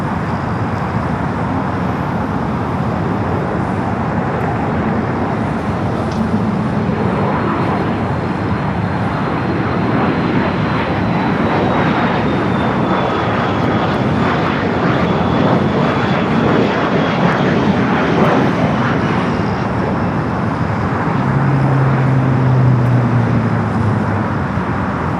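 A Boeing 747 airliner taxis at Los Angeles airport with a loud, continuous jet engine roar and a faint whine. The sound holds steady throughout, and traffic hums in the background.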